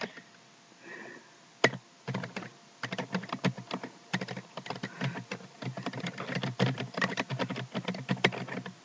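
Close-up typing on a computer keyboard: quick bursts of clicky keystrokes with short gaps, growing steadier and busier toward the end.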